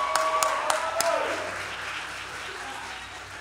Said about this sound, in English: Clap it up for them. Clap it up for them.